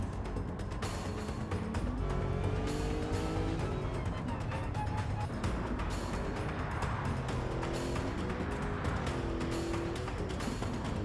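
A race car laps the Nürburgring in Gran Turismo 7 on worn tires while saving fuel; its engine drones steadily throughout, with pitch climbing and falling through gear changes.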